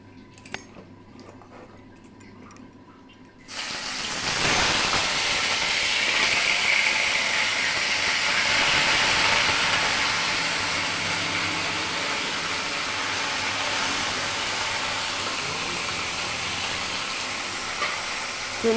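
Small fish frying in hot oil in a home kitchen, a steady loud sizzle and hiss that bursts in after a few quiet seconds and carries on evenly without any talk.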